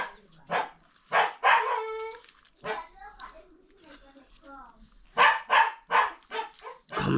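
A pet dog barks and yips in short bursts at a family home, mixed with nearby voices talking.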